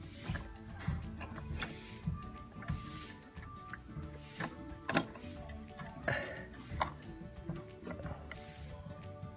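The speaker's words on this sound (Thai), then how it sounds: "พยายามคลายน็อตออกให้หมดทุกตัวนะครับ" Bolts being loosened on a Honda NSR 150 RR motorcycle while removing its body panels: scattered metallic ticks, clicks and light ratcheting knocks over a steady low workshop hum, moderately close, with no talk.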